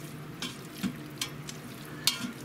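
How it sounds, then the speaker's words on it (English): A spoon stirs bulgogi and rice in an Instant Pot, giving a few soft scraping strokes over a low steady hum, quiet and close with no talking. "We're gonna give all this a good stir."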